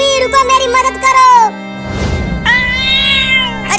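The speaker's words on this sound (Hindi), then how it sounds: "अरे वो बिल्ली मुझे क्यों रुकने के लिए बोल रही है?" A cat meows loudly and close, one long drawn-out call following a stretch of animated talking, then a second rising meow; other voices speak around it in a comic Hindi skit.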